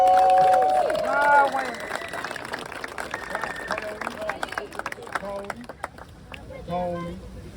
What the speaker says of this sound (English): So round of applause for my women